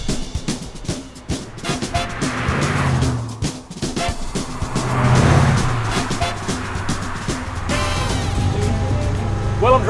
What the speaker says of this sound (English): I'm driving this 1948 Chevy pickup truck